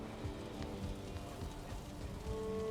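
Rain falling in the Valheim video game, a steady faint hiss of drops on surfaces that holds evenly throughout with no talk.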